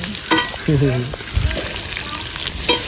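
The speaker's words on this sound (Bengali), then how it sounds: "আলুগুলো ভাজা হয়ে গেছে এবার তুলে নেবো" Large potato pieces for chicken biryani fry in oil, a steady sizzling hiss with stirring scrapes and a couple of sharp clinks, while a brief voice-like tone sounds in the background.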